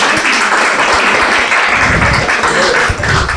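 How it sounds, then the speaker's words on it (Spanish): Applause from a prayer-group congregation, a dense wash of clapping that stays loud and steady throughout, with no voices standing out. "Ahora dese un fuerte aplauso usted mismo dese un fuerte aplauso"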